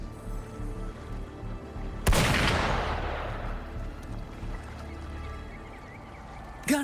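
A single loud gunshot-like blast rings out with a long decaying boom, amid a busy Wuthering Waves game soundscape, followed by a sharp short crack near the end.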